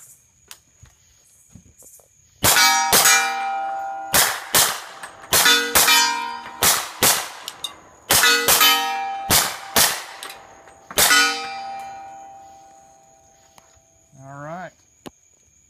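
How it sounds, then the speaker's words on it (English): A rapid string of suppressed .300 Blackout shots from a short-barreled PDW rifle fitted with a Silencerco Omega 9K, each shot a sharp crack with metallic ringing, fired in quick groups, close and loud, with brief talk at the end. "We're going to go ahead and run the rest of this mag out."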